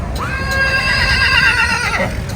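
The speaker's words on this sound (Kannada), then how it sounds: "ಕುದುರೆ ಗಾಬರಿ ಆಗಿದೆ." A single loud horse whinny from a startled horse, rising sharply then trembling along at a high pitch before dropping off, close by with no talking, at Chamundi Hills.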